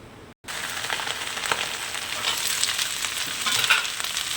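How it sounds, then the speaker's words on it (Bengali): Garlic and green chilies frying in hot oil in a wok, a steady dense sizzle with faint crackles that starts abruptly after a brief silence and holds near and loud throughout. "রসুন কাঁচা লঙ্কা দিয়ে ভেজে নেব"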